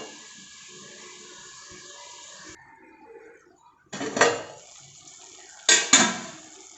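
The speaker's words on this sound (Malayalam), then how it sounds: "തക്കാളി ഒന്ന് വേവണ വരയ്ക്കും ഒന്ന് അടച്ച് വെച്ച് കൊടുക്കാം." A lid clatters onto a pan of cooking tomatoes, two sharp metallic knocks with short ringing tails following a soft hiss and quiet stirring.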